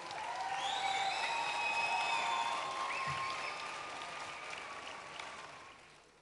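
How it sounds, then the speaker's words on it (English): Applause from spectators at a sheep-shearing competition's junior final prize presentation, a broad steady wash of crowd clapping heard from a distance, with high whistles over it and a gradual fade toward the end. "Give them both a big round of applause."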